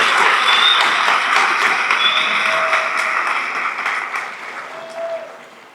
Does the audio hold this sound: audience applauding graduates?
yes